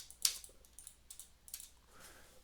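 Quiet computer keyboard key presses, a few separate soft clicks spaced irregularly, close by with no talking.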